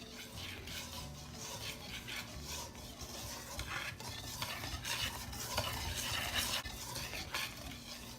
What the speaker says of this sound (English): And just use a whisk to mix it all up.